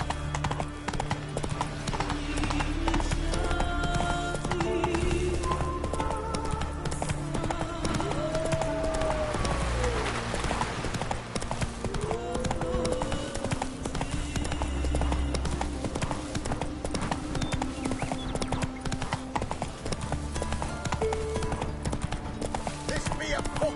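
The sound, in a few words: horse hooves of Roach galloping, from video game The Witcher 3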